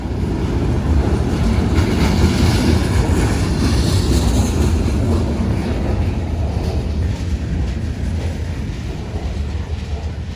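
A CSX freight train rolls past near Fort Lauderdale, Florida, its heavy low rumble of railcars and wheels holding steady and loud throughout, with no talk.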